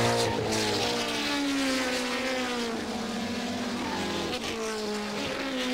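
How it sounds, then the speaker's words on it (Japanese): Race cars, a Starion A183A and a Skyline DR30 among them, racing on a circuit in hot weather, a loud continuous engine roar with pitch sweeping down as they pass, under faint commentary. "続いてカーナンバー50スカイライン DR30 の長谷見がピタリとマーク"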